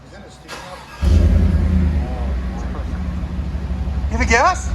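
A 2018 GMC Sierra Z71 with a 5.3L V8 and Flowmaster 40 muffler fires up after a second of quiet, settling into a deep, loud rumbling idle, then rises in a short rev near the end.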